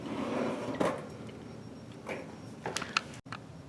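A soft-close storage drawer in a white custom craft-room unit slides and shuts, giving a quiet run of soft thuds and light ticks up close in a calm room, with no talking.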